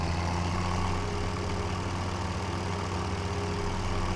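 A Massey Ferguson 390T tractor engine idles steadily in Farming Simulator 17, a constant low rumble with an even hum and no variation or voices throughout.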